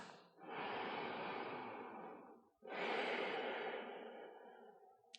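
A slow, deep breath drawn in and then released, two long airy washes close to the listener with a brief pause between them, quiet and calm with no words spoken.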